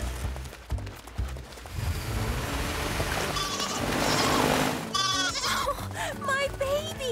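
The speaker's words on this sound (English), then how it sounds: "Run, little goats, run!" Cartoon goats running on a beach bleat in a busy, loud mix with splashing and other effects. Animated character voices talk over them.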